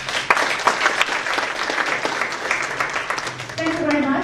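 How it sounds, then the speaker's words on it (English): A conference audience claps for panelists, dense applause with a few loud individual claps, close and steady for most of the span, with a voice starting to speak under it near the end. "Let's give them a round of applause, please."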